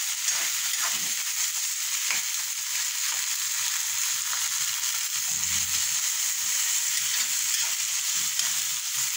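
Sweet potato leaves frying in a pan give a steady, close, loud broadband sizzle that runs the whole time, with occasional faint stirring knocks and no talking.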